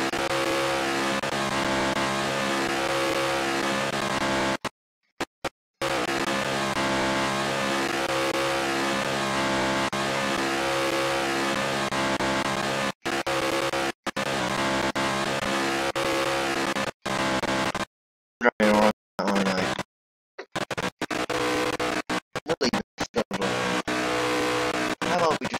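A car driving in the Roblox video game, a continuous engine drone with shifting tones, cut by abrupt silent gaps, with talk over it.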